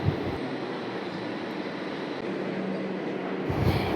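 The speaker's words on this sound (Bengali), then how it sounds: "এই যে একটু ওয়েট করার পরে আমাদের মেট্রো কিন্তু চলে এসছে" A metro train pulls into Garia metro station in Kolkata, a steady broad rumble and rush of the arriving carriages filling the platform, loud and continuous with a low hum building near the end.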